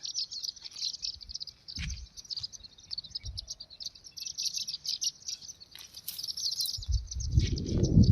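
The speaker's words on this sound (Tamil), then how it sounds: "இந்த சீமை கருவேலைக்குள்ளே எத்தனை குருவிகள் இருக்கு பாருங்க" Many small birds, including sunbirds, chirping inside mesquite scrub: dense high-pitched twittering and cheeping runs continuously with a constant insect-like buzz, plus scattered rustles and a closer low rumbling thump near the end.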